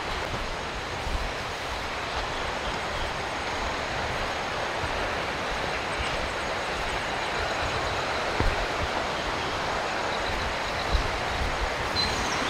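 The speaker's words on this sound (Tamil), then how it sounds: "இந்த பேர்ட்ஸோட சவுண்டுக்கும் இந்த ஆற்று சவுண்டுக்கும் வேறு லெவல்" A river in the Chinnar forest rushes with a dense, steady, broadband roar of flowing water, close and unbroken throughout with no voices.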